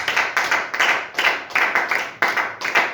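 A church congregation claps in unison to acclaim the Lord, a loud, close, steady rhythm of about eight sharp hand claps with no talking over it.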